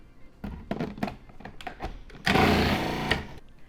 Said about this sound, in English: Add our apple slices or apple chunks and we're gonna shred those